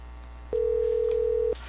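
A single steady telephone tone sounds for about one second inside a Zoiper softphone call on a Windows PC, standing out clearly over a faint background hum.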